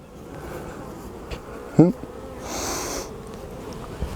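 Honeybees from an agitated hive buzzing steadily during an inspection, a soft continuous drone with a brief sharper burst near the middle and a louder swell of buzzing later on, no speech.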